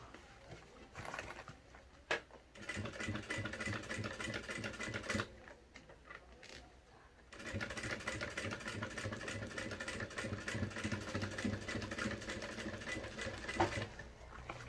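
Sewing machine stitching a pocket onto a children's backpack, running in steady mechanical bursts with short pauses between them, close and fairly loud with no talking.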